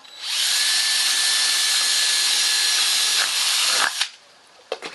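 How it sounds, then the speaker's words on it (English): A power drill whirs steadily at high speed for several seconds, drilling a hole in a plastic tote, then stops, followed by a few brief clicks and knocks. "Get my drill."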